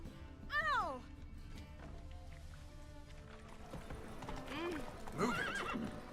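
A horse in The Witcher 3 whinnies and then trots with a rhythmic clip-clop of hooves, with a second whinny near the end, all at low volume.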